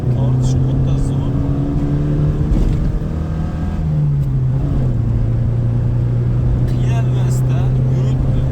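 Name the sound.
Daewoo Nexia car engine running while driving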